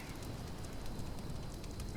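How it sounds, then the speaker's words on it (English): A campfire in the woods crackles with small irregular pops over a soft, steady rushing bed, close and quiet, with no voices. "Just focus on the sound of the crackling fire."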